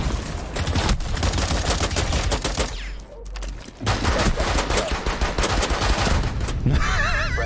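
Gunfire in the video game Rainbow Six Siege, with loud rapid bursts of automatic fire and single shots, one brief lull near the middle, then heavy shooting again to the end.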